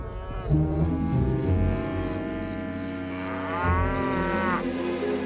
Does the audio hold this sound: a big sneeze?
no